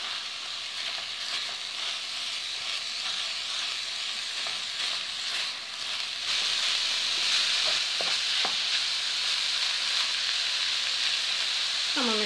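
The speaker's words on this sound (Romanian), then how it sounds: "Și amestecăm bine totul." Minced beef frying in a pan gives a continuous loud sizzle while it is stirred, with a few light scrapes of the utensil and a louder burst of sizzling in the second half.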